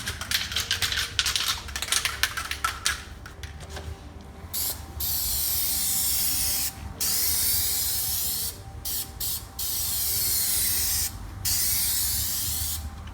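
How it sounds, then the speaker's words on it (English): Spray can applying a Plasti Dip coat to a Mercedes C200 front grille, long hissing bursts separated by short pauses, with some clicking and tapping at the start. "Okay, we're ready for our second coat. First spray is working. Give it a nice even coat."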